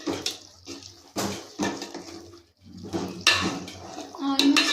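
A utensil stirs and scrapes through Telangana-style spicy chicken curry in a metal pan, giving intermittent clattering, sloshing bursts with short pauses between strokes, close and fairly loud.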